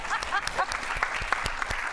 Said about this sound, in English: I just thought the number of children deserves a clap.